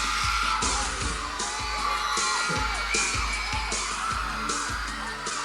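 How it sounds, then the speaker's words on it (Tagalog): A dense crowd at an outdoor Christmas event shouts and cheers loudly and continuously, with whoops, yells and children's cries over a thumping bass beat from a sound system. "gusto ko kung sino yung pinakamalakas na sigaw dito sa side na to"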